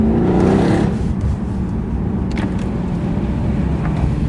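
A Mercedes C63 W204 revs its engine while driving, a loud, close, deep engine roar that swells early and then holds at a steady throaty drone with no one talking.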